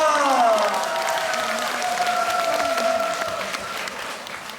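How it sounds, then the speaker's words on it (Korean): A crowd at a televised trot singing contest gives a dense, sustained burst of applause that tapers slightly toward the end, with a sung or drawn-out voice carrying over the clapping throughout. "박수로 모십니다."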